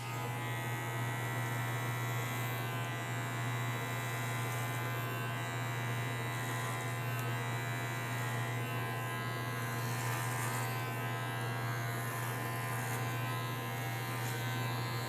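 Electric hair clippers fitted with a number 4 guard buzz continuously and steadily through a men's haircut, a close, even hum with no talking.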